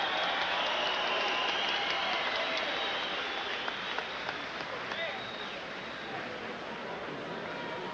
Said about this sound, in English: A round of applause, please, for this great performance tonight by Carl the Truth Williams